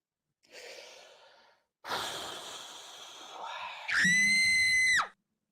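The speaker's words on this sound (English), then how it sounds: "Did I just hear a scream?" A woman's scream rings out after breathy sighs and gasps, one sustained high-pitched cry near the end, loud and close, with no talk over it.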